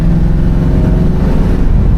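A 1968 Chevy Impala engine being revved, a loud, steady low rumble that holds up close for the whole stretch with no talk over it.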